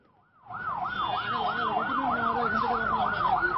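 An ambulance siren, stuck in a traffic jam and pushing along the wrong side of the road, starts abruptly and then wails steadily in rising and falling sweeps, loud and close over low traffic rumble.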